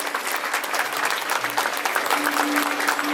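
A crowd at a Mahotsav celebration breaks into steady, dense applause to welcome Vijaybhai. The clapping holds at an even level for the whole stretch, with no voices over it.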